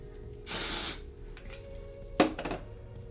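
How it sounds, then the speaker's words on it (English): An R&Co balloon volumizing hair spray is aimed at the hair roots, giving one steady hiss of about half a second that stands out clearly, followed later by a few short rustles and handling noises. "this spray from R&Co, the balloon spray, is really great"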